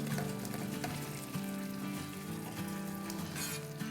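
Hot chicken sizzles and fries in a pan, a steady dense crackle that stays loud and continuous throughout with no voices over it.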